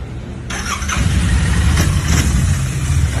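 A 2019 Royal Enfield motorcycle engine is started, then settles into a loud, close, steady idle with a rhythmic thumping beat.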